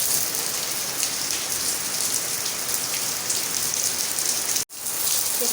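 Heavy rain pours down steadily, a dense, continuous hiss of drops striking surfaces up close, broken only by one very brief dropout near the end.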